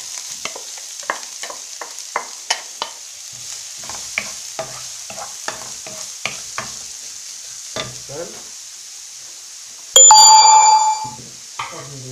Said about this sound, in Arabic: هاد قلي على البصل